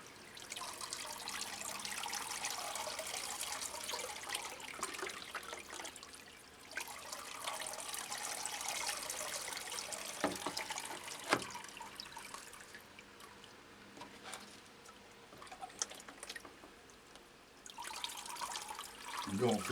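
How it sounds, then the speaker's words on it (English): Rainwater poured around a freshly repotted Phragmipedium orchid, a soft steady trickle and splash into the pot with brief pauses and a few drips, close and fairly quiet. "water it all the way around. And water them well."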